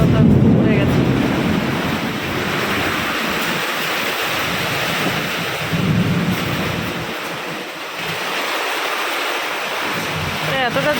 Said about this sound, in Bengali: রোজ রোজ এরকম জোরে বৃষ্টি হয়, দেখো তার টিনের উপরে কি জোর হাওয়া আর কি জোর আওয়াজ